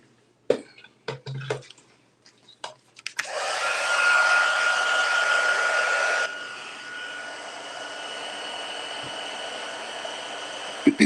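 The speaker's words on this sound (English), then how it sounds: "Now I'm just going to grab my heat tool." A heat embossing tool blows hot air over embossing powder on a stamped birthday card, giving a steady, close whirring hiss for about eight seconds. It is loudest at first, then settles slightly quieter, after a few soft taps.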